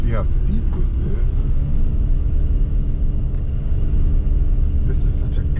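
A gutless four-wheel-drive car grinds up a steep gravel road in Costa Rica, its engine a loud, steady low rumble throughout, with brief high buzzing from cicadas near the start and end.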